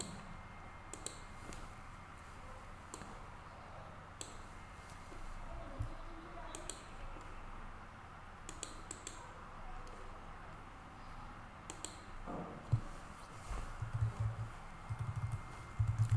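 Quiet, scattered clicks of keys on a computer keyboard, with short irregular runs of typing and pauses between them, heard faintly in a small room.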